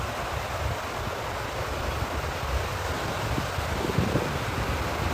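Strong wind by the sea roars steadily and continuously, a full rushing noise with no voices and no breaks.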